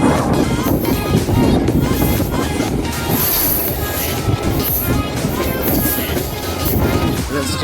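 A train rumbles steadily through a rain-flooded railway station near Kolkata, a dense, continuous roar of wheels and carriages with faint squeals, under scattered voices.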